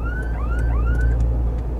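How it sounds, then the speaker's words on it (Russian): A UAZ Patriot's car alarm wails in rising, sweeping tones that repeat a few times over a low engine rumble, close by. "Это я нажал сам на сигнализацию."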